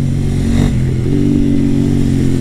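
A KTM Duke 890R motorcycle accelerating hard out of a hairpin, its engine a loud, steady mid-pitched roar that swells briefly and then holds.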